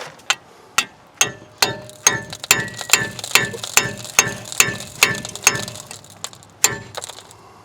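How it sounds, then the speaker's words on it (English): A hand-struck impact screwdriver working seized brake rotor screws on a Hyundai Santa Fe Sport front brake, about fifteen sharp metallic hammer blows in a steady rhythm with ratcheting clicks between them, close and clear with no talk. "And that's where the impact screwdriver comes in."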